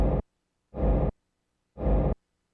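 A clean techno kick drum with a reverb tail and no saturation or EQ, heard as three heavy booming hits, each with a short tail and separated by silence, loud and alone.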